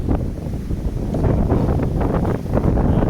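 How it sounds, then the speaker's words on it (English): Strong wind buffets the microphone outdoors at a house under construction, a loud continuous low roar with gusting surges throughout, no voices heard. "Windy. You see things are moving."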